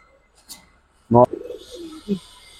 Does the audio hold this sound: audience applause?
no